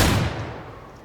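A single shotgun blast firing birdshot at a video-game firing range, one sharp close report that decays quickly.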